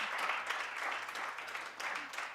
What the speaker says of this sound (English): please let's give a very, very, very amazing and worth round of applause.